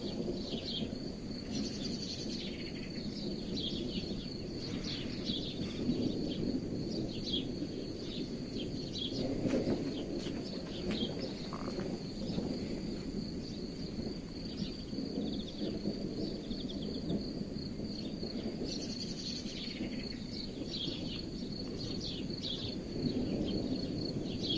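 Continuous low thunder rumbles under a darkening stormy sky while a few raindrops begin, with chirping insects and birds layered steadily over the distant growl.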